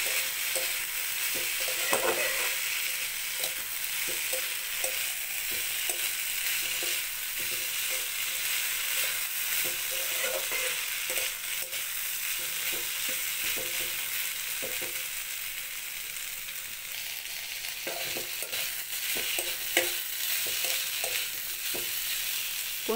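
Ivy gourd, potatoes and carrots are stirred in a pan, the spatula scraping and knocking in irregular bursts over a continuous soft sizzle, close and fairly loud, with no talking.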